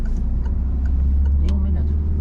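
Car pulling away gently during a driving lesson, a low steady engine hum with a faint rise as it moves off, close inside the cabin, with a brief voice partway through.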